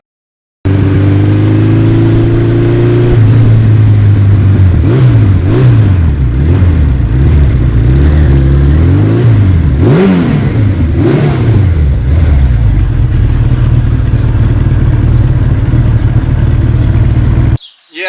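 A 1982 Suzuki GS1100E motorcycle engine idles loud and close, then revs repeatedly in rising and falling bursts before settling back to a steady idle, with no voices over it.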